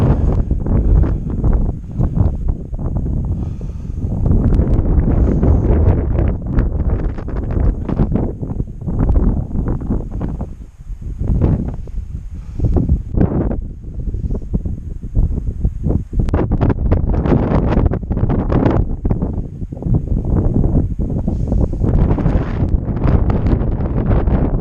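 Strong gusts buffet the microphone on the summit of Mount Marcy, a loud, continuous roar that surges and dips in long waves, close and overwhelming.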